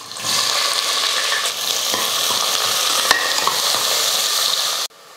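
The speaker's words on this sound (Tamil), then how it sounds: "பாருங்கள், வெங்காயம் வந்து நல்லா வதங்கிடுச்சு." Long-cut sliced onions and cinnamon pieces fry in a pan for a Tamil rice dish, giving a steady, close sizzle with occasional stirring scrapes and clicks throughout, then stopping abruptly at the end.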